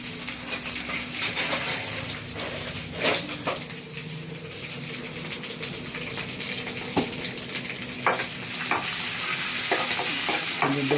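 Ingredients for a chicken curry fry in a pan, a continuous close sizzle with stirring scrapes and occasional clinks of a utensil against the pan.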